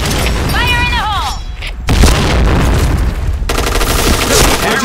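Grenade blast in the shooter game Point Blank: a sudden loud boom mid-clip after a stretch of game sound and a voice, followed by sustained dense rumbling, with a clipped voice line heard before it.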